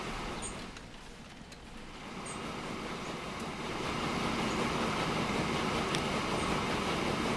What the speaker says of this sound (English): That's the grain train.